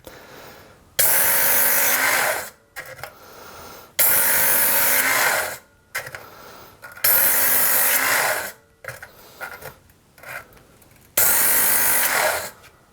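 A Work Sharp knife and tool sharpener grinds a knife blade on its belt in four loud, even passes of about two seconds each, a harsh whirring grind separated by brief pauses and handling noises.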